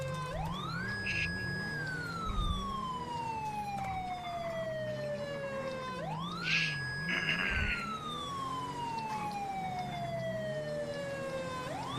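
A police siren wails in repeated rising and falling sweeps, two full cycles heard fairly faintly over a steady background rumble.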